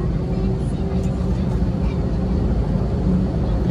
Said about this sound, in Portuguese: Estamos próximos à decolagem.